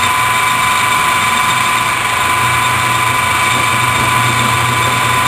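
A power tool grinds away about an eighth of an inch of metal, giving a loud, steady, high-pitched whine with a droning motor underneath that holds unbroken throughout, with no talking.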